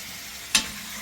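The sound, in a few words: chicken frying in a pan for gongura chicken curry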